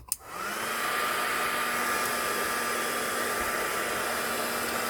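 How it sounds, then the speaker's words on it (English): An embossing heat gun switches on with a click and settles into a loud, steady blowing roar with a faint whining tone, running alone without a break. "And get the embossing gun on the go."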